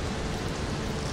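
Steady heavy rain hisses as a continuous broadband wash with no breaks, at moderate level, and nobody speaks over it.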